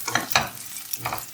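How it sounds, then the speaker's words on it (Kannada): Cashews fry in a pan for rava idli, with a few quick scraping stirs and soft sizzling in short bursts close at hand. "ಇದನ್ನ ಚೆನ್ನಾಗಿ ಫ್ರೈ ಮಾಡ್ಕೊತೀನಿ."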